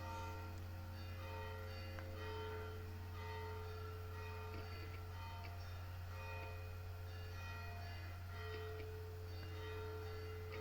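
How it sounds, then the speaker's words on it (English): Church bells ring the evening Vesper call, a steady wash of sustained tolling tones layered throughout, distant but continuous with no talking. "the Vesper bells are ringing here."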